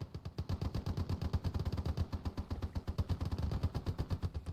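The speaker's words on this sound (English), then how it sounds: "30 cal. Just put the suppression fire down on him." A .30 cal machine gun laying down suppression fire in the World War II game Gates of Hell: Ostfront, a rapid, sustained stream of sharp shots in tight rhythmic bursts, loud and close, with no talking.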